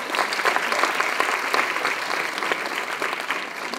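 A college audience claps loudly and steadily for a few seconds, a dense, even wash of many hands with no voices standing out.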